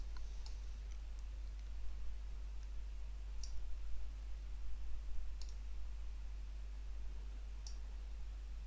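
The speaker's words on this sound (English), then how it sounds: "You can zoom in or out incrementally by simply clicking on the plus and minus button" Mouse clicks on the zoom plus and minus buttons in ArtMatic software, a handful of sharp, sparse, close clicks spaced a second or two apart over a steady low hum.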